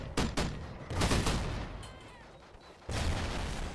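A grenade blast in the Call of Duty: Ghosts multiplayer shooter erupts as a loud, booming burst. It sits among rapid surrounding gunfire, and a second heavy burst follows near the end.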